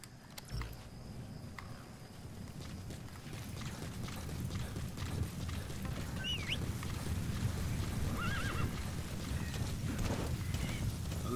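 In the Metal Gear Solid V video game, a horse's hooves clip-clop steadily at close range over low background ambience, with a faint whinny in the mix.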